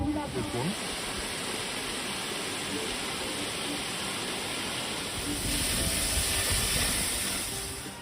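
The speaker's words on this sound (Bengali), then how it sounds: "ঝর্ণা প্রবহমান।" Moti Jharna waterfall in Sahibganj sends out a continuous broad rushing roar that swells slightly louder near the end.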